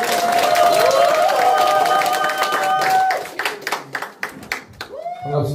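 Audience clapping at a local committee launch ceremony in Korea, with a voice and tonal sound over it for the first three seconds, then breaking into scattered, uneven claps that fade out.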